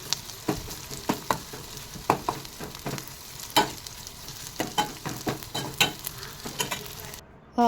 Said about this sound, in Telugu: అవి బ్రౌన్ రెడ్ కలర్ వచ్చేంత వరకు మనం వాటిని ఫ్రై చేస్తూ ఉండాలి